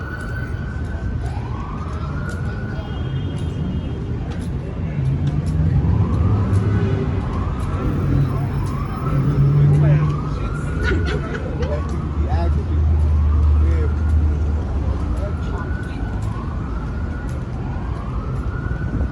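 A Chicago police siren wails in repeated rising-and-falling sweeps, loud and fairly close, over city street noise and a babble of distant voices.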